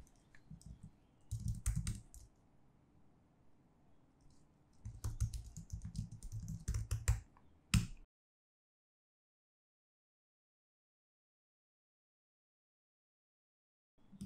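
Bursts of clicky typing on a computer keyboard in two short runs, close and fairly loud, followed by several seconds of silence.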